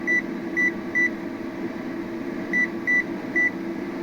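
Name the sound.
homemade electronic thermometer station sound, amplifier switched off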